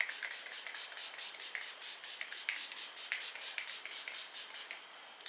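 Makeup setting spray is pumped in a rapid run of about twenty short, hissing bursts, close and fairly soft, with a brief pause partway through.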